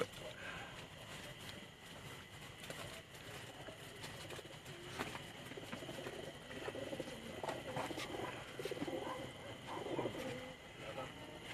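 Pigeons on a rooftop loft in Jamalpur Sayyidan, Gujrat, cooing and fluttering close by in a steady, busy stretch, with faint background voices now and then.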